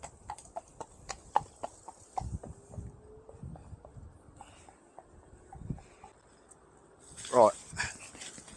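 A horse walking past on a road, hooves clip-clopping in a clear uneven rhythm close by, with a burst of rustling and a faint vocal sound near the end, heard from beside a budget iScooter U2 e-bike.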